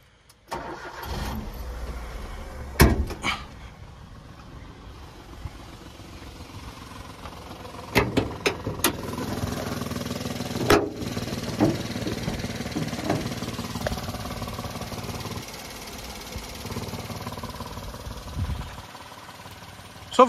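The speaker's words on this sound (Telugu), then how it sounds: "సో నేను ఇంజన్ అయితే స్టార్ట్ చేస్తున్నా ఇప్పుడు" A Maruti Suzuki Wagon R VXi with its bonnet open cranks and starts, with a few sharp clicks and bursts before the engine settles into a fairly quiet, steady idle close by.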